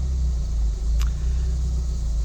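A car engine idling roughly after Seafoam treatment, a steady low rumble held close and continuous with slight unevenness and a brief faint high tick partway through.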